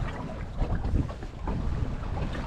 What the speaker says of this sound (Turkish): Dalga da iyice şiddetini arttırmaya başladı